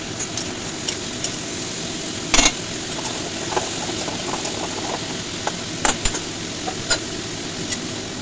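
Cubed and long-cut potatoes fry in oil in a wok with a steady hissing sizzle, scattered pops and a few sharper spatters, and no voices.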